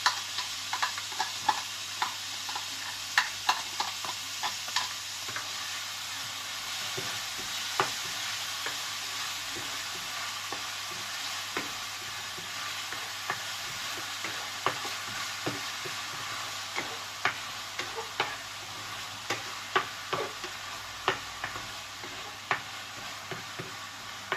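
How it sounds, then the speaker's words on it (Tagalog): Garlic and onion sauté in oil in a pan for a Filipino kaldereta, giving a steady close sizzle with frequent sharp clicks from a spatula scraping and stirring throughout, and no voices. "Isabot tayo ng bawang at sibuyas ulit."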